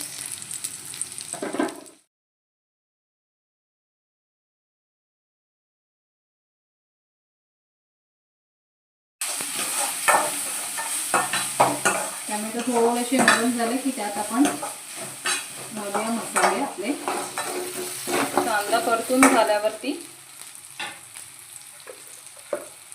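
Tomatoes added to a pan of garlic paste and stir-fried, a brief sizzle, then a near-silent gap, then a sustained close sizzle with repeated spatula scraping and stirring, with no voices.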